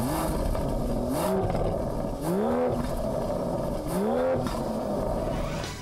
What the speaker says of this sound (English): Then the engine roars from all 12 cylinders.